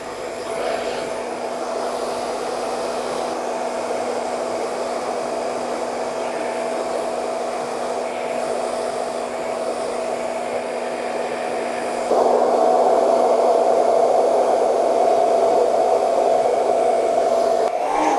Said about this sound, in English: Right, so that's blow dried.